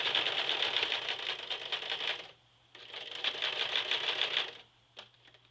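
A sewing machine stitches across the waistband while replacing a jeans zipper, its rapid needle chatter running loud and steady in two long bursts with a short pause between them.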